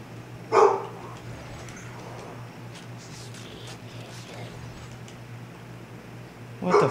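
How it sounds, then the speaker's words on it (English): A dog barks in the background of a house: two brief bursts, one near the start and one at the very end, over a steady low hum and quiet room noise. "Sorry if you guys can hear my dog in the background."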